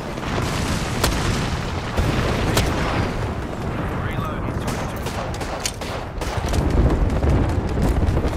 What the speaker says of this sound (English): Deploying me knuckle cluster.